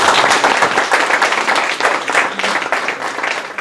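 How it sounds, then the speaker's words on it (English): At an Independence Day celebration, a crowd applauds loudly in dense, continuous clapping that swells and eases slightly without stopping. "Please join us in giving them a round of applause."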